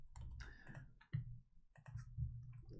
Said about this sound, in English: I'm just gonna type demo peer reviews.